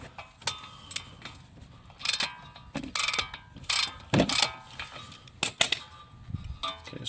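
A ratchet wrench loosens bolts on a Dodge Dart during an engine and transmission swap, with bursts of close clicking ratchet strokes separated by short pauses.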